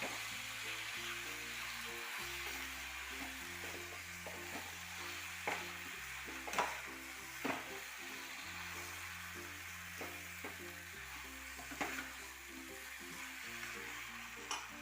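Cooked tapioca is stirred in a pan, a low sizzle running throughout with periodic scrapes and clatters of the spoon, close and steady, with a faint tonal hum underneath.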